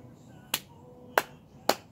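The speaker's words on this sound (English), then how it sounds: "Slow clap, happiness." Three sharp, spaced hand claps in a slow, deliberate rhythm, close and distinct against a quiet indoor background.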